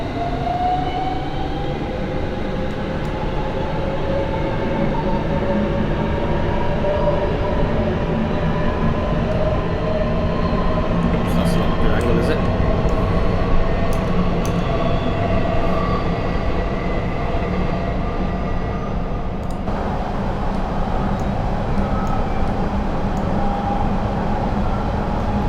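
A simulated S7 Stock London Underground train runs steadily in Train Simulator 2019, its motor whine holding loud and close over a constant rumble of wheels on track, with no talking.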